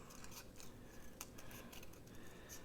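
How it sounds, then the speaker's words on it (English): Scissors trim paper around a printed word for a handmade envelope journal, giving quiet, close, irregular snips and soft paper rustles over a faint hiss. "I'm not fussy cutting it. I'm just trimming around the actual word"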